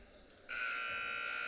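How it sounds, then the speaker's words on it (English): At a high school basketball game, an inadvertent buzzer sounds abruptly after a quiet moment and holds as a steady, loud electronic tone to the end. "there seems to be a buzzer, and they'll just keep on going"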